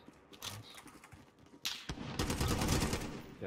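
Gunfire in the battle royale shooter Warzone: scattered shots and short rattles at first, then a heavy continuous burst of automatic fire that dominates the end.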